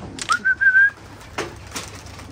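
Arfali hunting pigeons take off, giving a brief whistling wing sound followed by a few faint flutters and soft bursts, fairly close with a low background hum.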